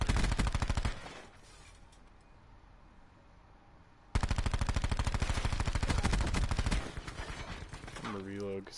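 Gunfire in Black Ops 4: rapid automatic fire rattles loudly for about a second, falls quiet, then resumes in a long sustained burst before stopping, with a brief mechanical sweep at the end.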